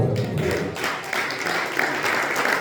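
Congregation applauding during a pastor's Spanish-language sermon in church, a moderate, fairly even wash of many hands clapping that carries on throughout.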